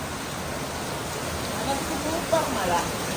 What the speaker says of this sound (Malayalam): സൂപ്പർ മഴ. അങ്ങനെ വെളിയിൽ നല്ല ശക്തമായിട്ടുള്ള മഴ.